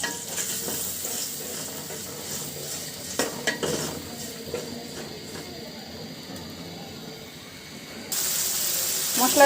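A spice paste of turmeric, chili, coriander, salt, garlic and cumin fries in oil while being stirred, producing a low sizzle with utensil scrapes and clinks. The hiss grows louder and steadier near the end.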